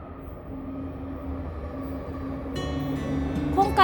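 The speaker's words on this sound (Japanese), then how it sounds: "1番線列車が到着いたします。" A Tohoku Shinkansen train rolls steadily into a station platform with a low rumble and hum, then a bright chime rises near the end.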